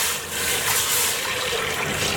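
Water, 1.5 litres of it, pours steadily into a cooking pot for a spinach and mashed dal dish, making a continuous close, loud rushing splash with no break.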